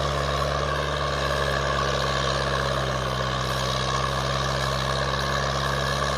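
A Massey Ferguson 265 tractor works a field with its older engine running loud, steady and close, a low heavy drone with a constant rumble and no let-up throughout.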